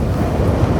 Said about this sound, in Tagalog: Kasi mahangin na siya eh.